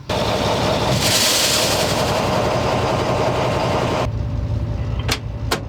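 A heritage steam train, locomotive 1903, pulls away from a station platform with a loud, continuous rumbling, hissing roar close by that eases off toward the end, where two sharp higher bursts cut through.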